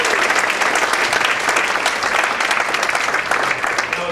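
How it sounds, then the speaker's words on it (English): An audience at a mayors' breakfast gives a steady round of clapping, dense and fairly close, holding at an even level for a few seconds with no voices over it. "Please give a round of applause to Mr."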